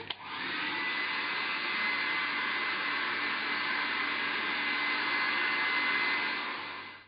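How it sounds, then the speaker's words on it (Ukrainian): Continuous whooshing hair dryer noise, loud and close, holding at an even level for several seconds before cutting off. "Фен."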